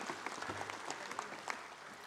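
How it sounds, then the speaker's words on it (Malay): Applause breaks out at a UMNO party assembly for the state liaison chairmen, a dense, moderately distant patter of many hands clapping steadily for about two seconds. "Kita berikan tepukan kepada pengurusi perhubungan negeri."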